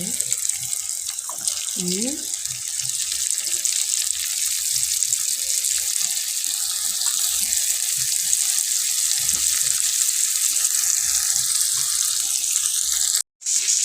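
Steady sizzling hiss of cucumber and carrot frying in a pan for turmeric-spiced acar, continuous and fairly loud throughout, with a brief clatter early and a sharp cutoff near the end.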